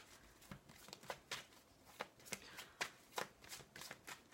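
Tarot or oracle cards, including an amethyst love deck, shuffled by hand close up in quick soft riffling flicks that repeat in a fairly even rhythm, quiet and with no talk.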